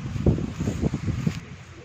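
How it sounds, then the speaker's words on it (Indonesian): Light breeze blowing outdoors in Delft, a soft steady wind rush with low rumbling buffets against the microphone, continuous and close, with no talk. "Tapi agak angin. Anginnya sepoi-sepoi."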